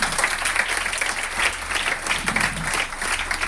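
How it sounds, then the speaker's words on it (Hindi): An indoor audience at a business motivational talk claps together in a dense, steady burst of applause that carries loudly through the whole moment. "के लिए ताली बजाइए"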